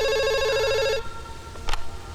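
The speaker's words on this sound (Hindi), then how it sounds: "फोन बज रहा है" A telephone rings with a steady electronic trill for about a second, then cuts off, leaving quiet room noise and a brief faint tone.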